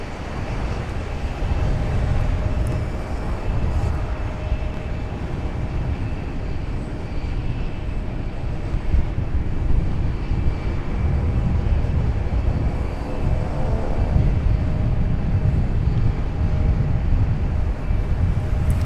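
An Alaska Airlines plane lands at Raleigh-Durham International Airport with a bounce on touchdown. A loud, sustained low rumble of engines and rolling wheels runs steadily for the whole stretch, with no talking.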